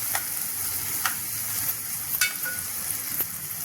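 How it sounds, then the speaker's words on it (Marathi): Ginger-garlic paste fries in hot oil for a moong dal curry, a steady close sizzle with a few sharp spoon scrapes against the pan, no voices. "अद्रक आणि लसूणची पेस्ट टाकायची आहे छान भाजून घ्यायचे"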